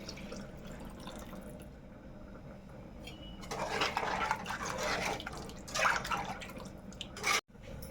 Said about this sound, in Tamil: நம்ம கரைச்சி வச்சுருக்கிற புளி தண்ணியை சேர்த்துக்கலாம்.